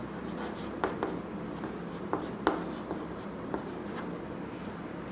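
Chalk or marker scratches and taps across a board during a physics lesson, with several short strokes and sharper knocks spaced irregularly over soft room noise.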